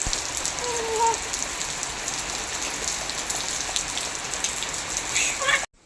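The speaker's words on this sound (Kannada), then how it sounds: "ಮತ್ತು ಮಳೆ ಸ್ಟಾರ್ಟ್ ಆಯ್ತು." Steady village rain falls on surfaces as an even, moderate hiss that holds unbroken for several seconds before cutting off abruptly at the end.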